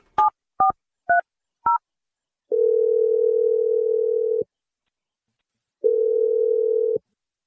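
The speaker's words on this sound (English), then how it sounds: "I'm just going to dial her number." Four quick touch-tone beeps of a number being dialed, then two long steady electronic ringback tones separated by a pause of silence.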